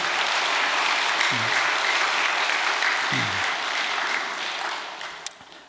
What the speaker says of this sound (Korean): 이 시간 감사의 박수를 보내 올리십시다